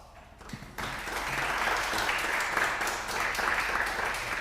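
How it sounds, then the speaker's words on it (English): An audience at a first-generation welcome lunch applauding the event helpers, a steady wash of many hands clapping that swells in after a brief quiet start and continues at moderate, even loudness. "let's give these folks a big round of applause"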